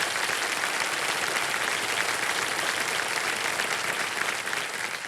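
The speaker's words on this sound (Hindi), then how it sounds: "जोरदार तालियां बढ़ जाए" Studio audience applause on the TV quiz show Kaun Banega Crorepati, dense, even clapping from a large crowd that holds at full strength throughout without speech.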